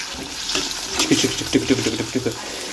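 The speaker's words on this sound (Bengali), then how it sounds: "ধরুন এর মাঝখানে আলুটাকে একবার নেড়ে দিই।" Potatoes frying in a pan are stirred, giving a hissing sizzle with a run of uneven scraping and knocking strokes in the middle, close by, while a voice can be heard briefly.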